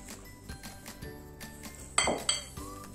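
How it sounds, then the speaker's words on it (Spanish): A utensil clinks against a bowl while mixing sugar, cornstarch and cinnamon, giving soft scraping strokes and a few sharp close taps near the end, with no one speaking. "Mezclamos hasta que esté todo integrado."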